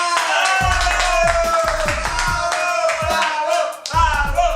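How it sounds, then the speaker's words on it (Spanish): An audience applauds in honour of Paraguayan mothers, with loud, close clapping in rhythmic bursts over sustained tonal music, the claps briefly dipping near the end before resuming. "vamos a dar un aplauso a todas las madres del Paraguay"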